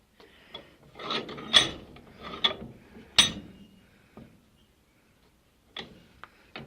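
Handlebar bolts on a micro chopper are tightened with a tool that makes close ratcheting, rasping clicks in irregular bursts, separated by brief pauses and quieter stretches.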